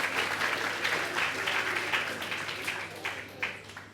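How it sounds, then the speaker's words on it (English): Audience round of applause for a guest at a hosted talk, a full, sustained wash of clapping from a sizable crowd that slowly tapers off near the end. "Give Neil a round of applause."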